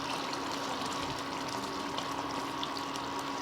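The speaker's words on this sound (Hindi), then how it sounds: "ये देखिए हमारी सब्ज़ी बहुत अच्छे से पक रही है। अभी इसका पानी पूरी तरीके से जला नहीं है।" Arbi (taro) curry cooking in a covered pan with some liquid still left, giving a steady, continuous bubbling sizzle at moderate level with no talk.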